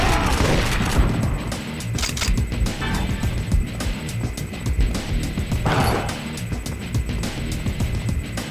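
Gunfire in the video game Dead to Rights: Reckoning: dense, continuous shooting with crashing impacts and booms, loud and close throughout, with no voices.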